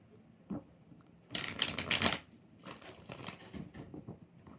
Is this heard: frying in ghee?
no